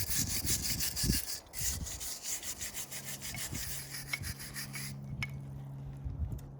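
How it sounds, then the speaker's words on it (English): Rock being scrubbed with a brush to clean a new climbing route outdoors, a steady close rasping scrub in rhythmic strokes for several seconds, with no talking. "what's more tedious than scrubbing a rock is scrubbing a rock on camera"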